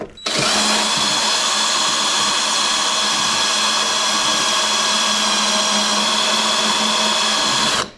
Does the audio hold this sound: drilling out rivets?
yes